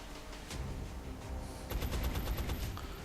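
Gunfire in the XCOM Long War strategy game: a single sharp shot, then a rapid burst of several loud shots in quick succession, close and alone with no talk.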